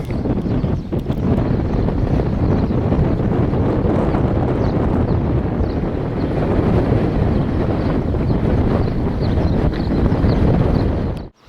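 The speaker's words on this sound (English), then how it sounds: "A little windy though" Strong wind buffeting the microphone at Popeye Village on Gozo, Malta, a loud continuous rumbling roar that hardly lets up, with no voices.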